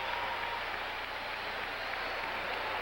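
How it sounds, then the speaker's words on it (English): Hockey fans in a Washington arena keep up a steady, dense roar of cheering and applause during a 1985 Islanders at Capitals playoff game, filling the whole stretch evenly without pause. "that's going to draw a cheer from the fans here in Washington"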